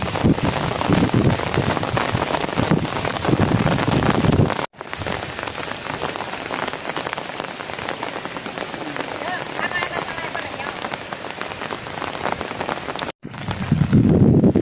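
Heavy rain hammers down nonstop, a loud dense roar of drops on surfaces, with brief cuts in the sound.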